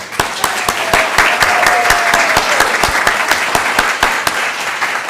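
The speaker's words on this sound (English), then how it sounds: "Let's give them another round of applause." A church congregation gives a round of applause for retired educators: dense, close clapping with several sharp individual claps standing out in a steady rhythm.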